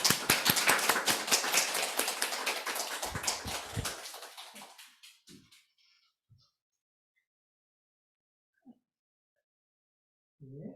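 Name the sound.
congregation applause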